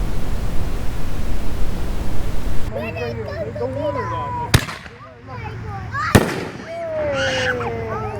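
An Echo in the Air canister firework shell goes off with two sharp, loud bangs a couple of seconds apart, between a hiss of noise and rising whistles, with voices murmuring in the background.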